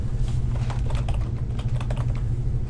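Someone types on a computer keyboard, entering a field name into a database table: a quick, close run of light key clicks with no talk.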